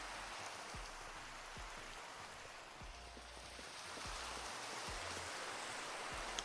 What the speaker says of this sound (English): I'm going inside to see if I can't get out of this rain